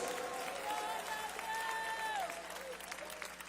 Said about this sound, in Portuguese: Mais forte, palmas de glória a Deus